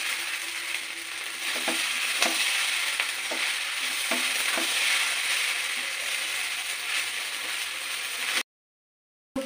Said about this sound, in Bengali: একটু নাড়াচাড়া করে নিন, করে নিয়ে নুন চিনিগুলো একবারে ভালোভাবে মিশে গেলে